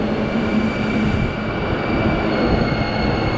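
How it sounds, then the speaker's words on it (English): Tokyo commuter train at Shinjuku station, a steady loud rumble of rolling wheels and carriage noise with a constant mechanical drone, continuous throughout with no talking. "Oh, empty train. We never have empty train."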